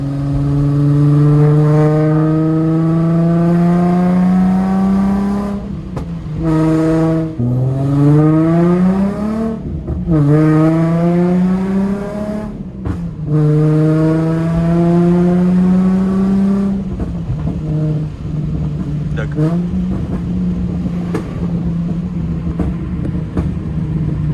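A Nissan 350Z with stock headers and test pipes revs its engine again and again, a loud, close, rising and falling drone broken by brief gaps and crackling exhaust pops, with no voices.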